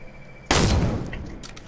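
A single sharp, loud gunshot blast in a shooter video game cracks out after a quiet moment and rings into a decaying tail, followed by faint softer game sounds.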